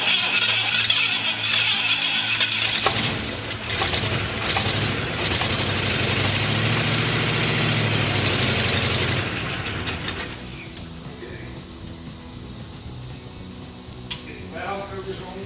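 A Ford Bronco's 460 V8 runs rough on first start, a loud clattering mechanical roar that drops off after about ten seconds into quieter ticking and clicks.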